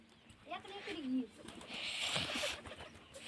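Domestic pigeons coo softly from a rooftop coop where chicks have hatched, a few low, wavering calls over steady background noise, with a voice talking nearby.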